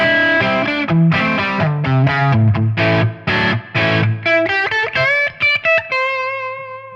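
Electric guitar played on its neck pickup through a Tonex or Quad Cortex amp model, slightly driven; a run of picked notes and chords ending on a sustained ringing chord, close and alone.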